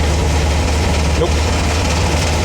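A VW double cab's engine runs at a steady, loud, close idle, a low, even rumble with no change in pace throughout.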